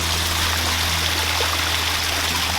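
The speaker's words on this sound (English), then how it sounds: "My waterfall," A backyard pond waterfall pours in a constant dense splash and rush of water, loud and close, with no pauses and no voices.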